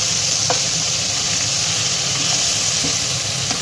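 Onions frying in a pan, a steady close hissing sizzle with a few faint stirring taps scattered through it.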